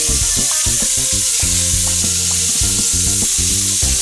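Lamb chops frying in a hot pan, a steady loud sizzle with crackling pops and a few clinks of utensils, close up and without any talking.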